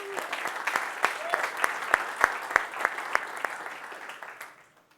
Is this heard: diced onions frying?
no